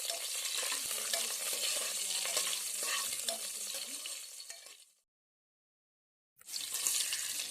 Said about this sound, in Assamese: লগতে দিছো 2টা শুকান জলকীয়া আৰু 2 খিলা তেজপাত। এইখিনি অলপ লৰাই